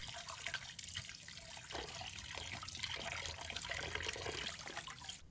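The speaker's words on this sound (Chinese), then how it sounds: "把它清洗一下，把表面的灰尘和杂物清洗干净" Tap water runs steadily over a piece of pork neck meat in a sink, a close, soft splashing trickle that stays constant while the meat is rinsed clean.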